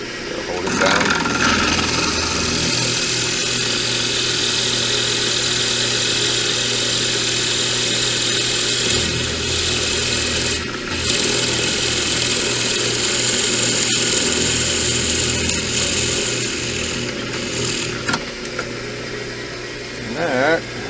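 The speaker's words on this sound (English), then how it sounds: "So that'll give me a nice half-inch hole. I'll drill that puppy out." A power drill bores a half-inch hole in a continuous, loud, steady whirring grind lasting about twenty seconds, with slight changes in pitch as it works.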